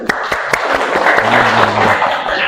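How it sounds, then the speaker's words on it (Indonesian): Students in an economics classroom give a short burst of clapping, a fairly close, brisk patter lasting a couple of seconds. "Kasih tepuk tangan dulu."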